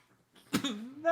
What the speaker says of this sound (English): Coughing fits happen.